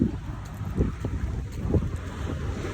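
Steady wind buffets the microphone with low rumbling gusts, swelling and easing continuously with no voices.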